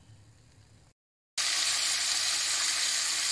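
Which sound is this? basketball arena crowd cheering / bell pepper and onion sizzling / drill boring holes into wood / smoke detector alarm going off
bell pepper and onion sizzling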